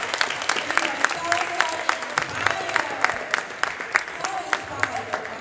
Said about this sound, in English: Let's give all of our guests a round of applause